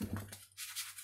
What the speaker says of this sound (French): je vais essayer de mélanger